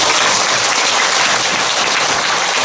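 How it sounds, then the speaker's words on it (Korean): Sustained applause for a monk at a Buddhist dharma talk fills the hall, a dense, even wash of many hands clapping together at close range with no break. "다 같이 스님께 박수"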